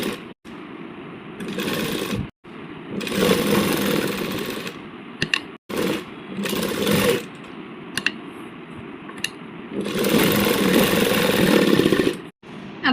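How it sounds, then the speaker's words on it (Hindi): Electric sewing machine stitching around the neck of a baby frock, running in loud bursts of several seconds each, stopping and starting repeatedly with brief quiet gaps. "अब हम इस तरह से यहाँ पर इसके चारों तरफ ऐसे सिलाई लगाएंगे एक पैर की।"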